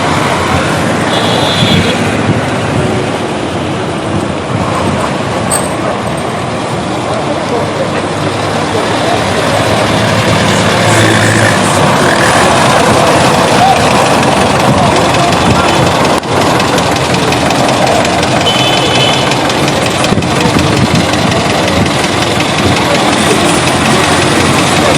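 Lagos State Task Force vehicles arriving at the Lekki toll gate during a protest, engines idling and rumbling loudly amid dense traffic noise and crowd voices for the whole stretch.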